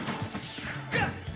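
Roy lands a side smash in Super Smash Bros during a collegiate match: a sharp, loud crash of impact with a brief whoosh around it, sounding alone without speech.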